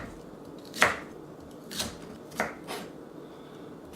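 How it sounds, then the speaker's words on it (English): A knife cuts peeled kohlrabi on a board for a dumpling filling, giving four separate chops spread across the clip with quiet gaps between them. No one speaks. "So just slice up the kohlrabi."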